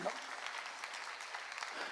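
Church congregation clapping during a Korean revival service, a brisk, steady patter of many hands close by with no pauses.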